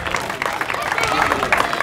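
An audience claps through a children's football awards ceremony, with steady applause close by and a crowd murmuring beneath it.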